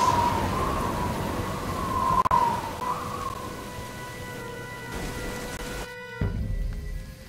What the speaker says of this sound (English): At least, the rain's easing up.